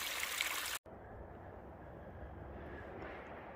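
A mountain stream at a water source along the Appalachian Trail gives a steady, soft rushing flow, heard alone after a brief louder burst of wind or handling noise at the start.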